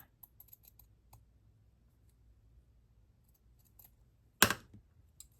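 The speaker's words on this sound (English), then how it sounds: "These pinking shears are probably as old as me." Old pinking shears cutting through red felt give one sharp, close snip burst, set against faint scattered ticks and a quiet background.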